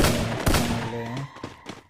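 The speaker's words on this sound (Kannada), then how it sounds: "ಇವಾಗ ಫಸ್ಟು ಈ ಗನ್ ಮಾತ್ರ ಸರಿಯಾಗಿ ಬೀಳ್ತಾಯಿದೆ ಗೈಸ್, ಗನ್ನು ಮಾತ್ರ ಸರಿಯಾಗಿ ಬೀಳ್ತದೆ." Gunfire from the mobile battle royale game Free Fire, a burst of loud rapid shots followed by a few scattered sharper cracks, with game sound and faint voice mixed in.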